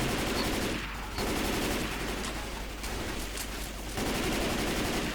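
Sustained automatic gunfire from the video game Left 4 Dead 2 rattles in loud, dense bursts with two short breaks, close and continuous with no speech over it.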